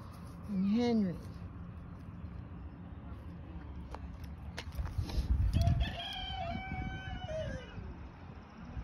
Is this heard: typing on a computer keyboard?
no